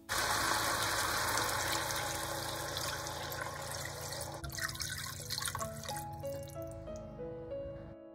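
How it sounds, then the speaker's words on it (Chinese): Water poured into a cooking pot after browning meat with dark soy sauce, a steady close gushing pour that thins into dripping and trickling, with a faint ringing tone behind it as it tapers off. "表面上色后加水"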